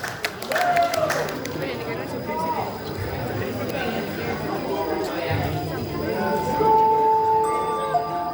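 Audience applause at a school festival as a grade 11 class drama, Roro Mendut, is introduced; a steady wash of clapping and crowd noise runs throughout, with voices talking over it.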